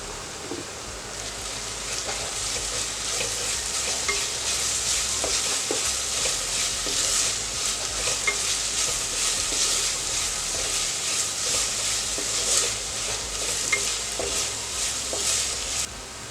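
Onion and cumin fry over a full gas flame with a loud, dense, unbroken sizzle and faint stirring ticks. The sizzle stays close and even throughout, with no voices.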